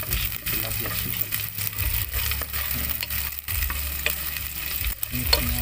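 Crispy tilapia sisig is stirred and tossed in a sizzling pan, with steady frying hiss and repeated scraping and clinking of the utensil throughout. A person talks over the cooking sounds.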